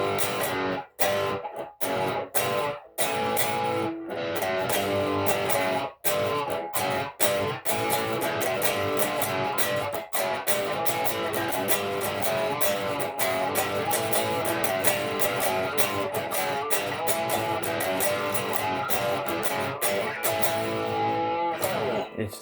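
A distorted electric guitar plays a riff at a slow pace, dense and loud, with short gaps between phrases and no talking.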